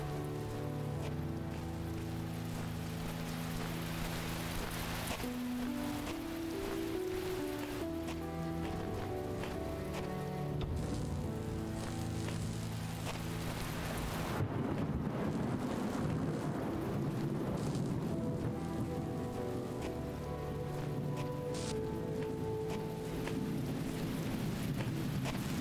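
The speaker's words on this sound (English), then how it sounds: "An occasional thunder." Steady rain pours throughout a scene in the video game The Talos Principle, joined by deep rumbling thunder, with tonal game music layered over it and no voices.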